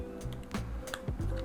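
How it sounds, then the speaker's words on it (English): Side cutters snip through a rivet on a GoPro 11 camera housing, giving a few sharp close clicks and snaps in quick succession, with no talking. "So just take your side cutters and do the same thing you did with all the other rivets."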